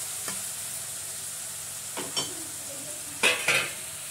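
Salted tomato, onion and coriander sauté in a pan for a village-style potato chutney. A quiet background sizzle is broken by a few distinct spatula scrapes and clinks, clustered toward the end.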